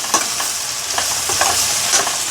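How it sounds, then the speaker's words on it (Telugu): Dried shrimp being stirred into Andhra-style gongura curry in a hot pan, a close, steady sizzle of frying broken by several scraping strokes of a spoon, with no talking. "వేసుకొని బాగా కలుపుకోవాలి."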